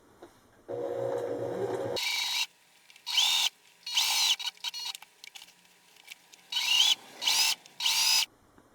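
A domestic sewing machine stitches fabric for a bunny-shaped basket, guided along the side of the presser foot without backstitching: a steady motor hum, then several short, whirring bursts of stitching separated by pauses.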